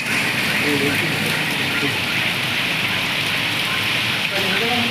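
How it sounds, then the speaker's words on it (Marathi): Heavy rain pours down on Karad city in a dense, continuous hiss, loud and close, with faint voices barely surfacing beneath the downpour. "मुसळधार पावसाच्या सरी कोसळताना आपण दृश्य पाहत आहे"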